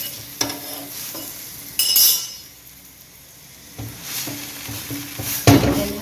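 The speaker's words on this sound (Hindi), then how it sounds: "हल्का हल्का पोने के साथ इसको क्रिस्पी करने के लिए भुनवाएंगे" Mooli paratha crisping in desi ghee on a hot griddle, with soft sizzling broken by a few sharp clinks and scrapes of a utensil against the pan, heard up close with no talk.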